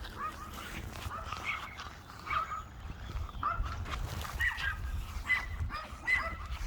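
Several neighboring dogs bark and yip in a backyard garden, moderately distant, a scatter of short overlapping calls over steady outdoor background noise.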